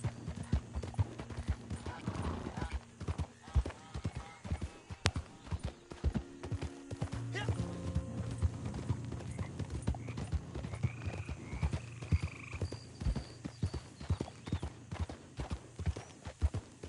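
Horse hooves clip-clop steadily at a brisk trot in the Red Dead Redemption 2 video game, with a brief whinny and game background sounds underneath.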